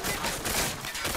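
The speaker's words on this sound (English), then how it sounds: "Who the hell's shooting me?" Rapid gunfire in a Call of Duty: Black Ops match: a loud, dense burst of shots in quick succession, close by, with no speech over it.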